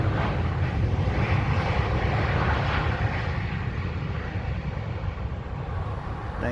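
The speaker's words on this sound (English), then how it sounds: "This is Malaysia Airlines landing." A Malaysia Airlines airliner lands at Kuala Lumpur International Airport, a steady loud roar of jet engines and rushing air holding throughout without any talk.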